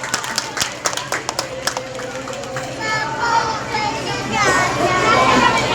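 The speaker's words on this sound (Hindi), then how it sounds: "एक बार जोरदार तालियां हो जाए।" Audience clapping to welcome a guest at an Uttarakhand foundation day event, starting as scattered claps and swelling into sustained applause, with children's voices and crowd chatter mixed in.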